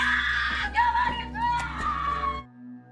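A woman screams hysterically in a film scene, a loud sustained high-pitched wail with wavering pitch lasting about two and a half seconds before cutting off abruptly.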